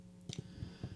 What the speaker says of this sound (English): sorry for the sounds the clicking makes.